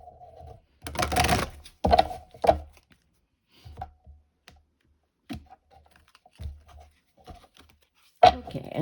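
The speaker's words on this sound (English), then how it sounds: "Okay, we'll do one last shuffle." Tarot cards shuffled by hand in a series of brisk riffling and tapping bursts separated by pauses, close and fairly quiet, with no talking.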